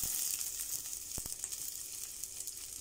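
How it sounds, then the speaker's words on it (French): Onion and leek sizzle steadily in hot oil in a frying pan, a constant close hiss with two brief sharp clicks near the middle and no talking. "Et je vais faire revenir l'oignon et le poireau"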